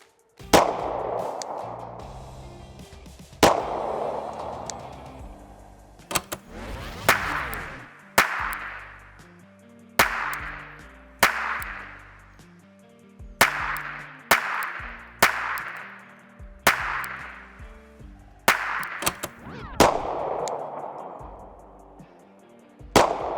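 A Glock 19X pistol fires at a paper target. About fourteen sharp, loud gunshots come at a slow, deliberate pace, and each one rings out with a short, echoing decay.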